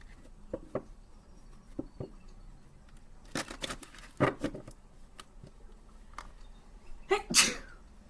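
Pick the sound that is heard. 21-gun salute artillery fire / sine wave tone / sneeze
sneeze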